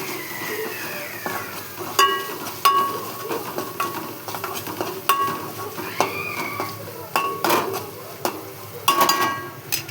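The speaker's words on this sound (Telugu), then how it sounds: "అల్లం పేస్ట్, కొంచెం పసుపు వేసుకొని కలపెట్టాలి." Ginger paste and turmeric are stirred in a pan, with a soft sizzle underneath and a spoon clinking and scraping against the pan at irregular intervals, close and moderately loud.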